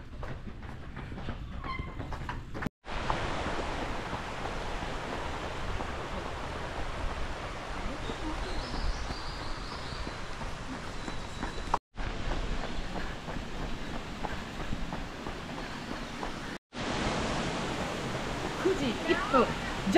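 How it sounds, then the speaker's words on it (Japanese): A steady rushing roar of a waterfall fills the air, broken by a few brief cuts, with faint voices now and then. "滝到着です"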